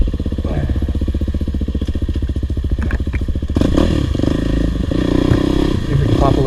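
Dirt bike engine, a 2022 Kawasaki KLX 300R or 2009 KTM 450SXF, close and loud with a steady rapid pulsing idle that jumps into a harder, rougher rev partway through, with bumps and clatter of riding.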